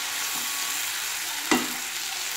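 Prawns frying with onion and tomato in a pan for a Bengali chingri curry, a steady close sizzle throughout with a single sharp clatter of a utensil midway.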